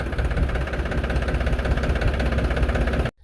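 A tractor engine runs steadily at close range on a farm plot, a dense low knocking rumble that holds even for about three seconds before cutting off abruptly at the end.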